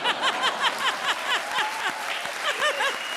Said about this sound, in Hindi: आप ताली बजा रहे हो।